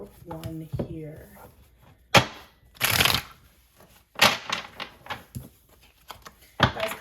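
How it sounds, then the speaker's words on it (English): Tarot cards shuffled loudly at a table in several sharp riffling bursts, close up, with a voice speaking between them. "That was kind of a loud shuffle."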